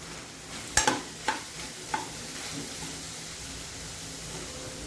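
Green beans cooking in a covered pan, heard as a soft, steady sizzle with a few sharp pops and crackles near the start, then a quiet, even background hiss.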